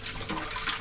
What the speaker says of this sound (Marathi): पाणी काढून टाकायचं ना तू?